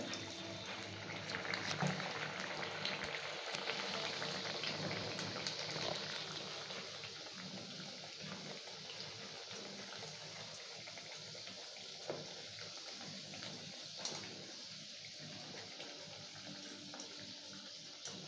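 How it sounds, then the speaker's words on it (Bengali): Fish kachuri frying in hot oil, a steady, moderately quiet hiss and sizzle that runs without a break, with small crackles and pops scattered over it. "মা ওটা ভাজছে।"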